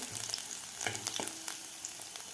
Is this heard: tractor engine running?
no